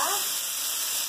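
Chicken and pork chops fry side by side in fat, giving a steady loud sizzle that holds level for about a second, with no talk over it.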